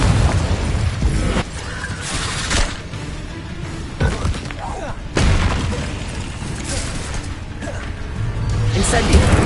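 Confringo explosive spells cast in Hogwarts Legacy, a run of loud booming blasts and crashing bursts at irregular intervals over a dense, noisy background, with voices heard among them.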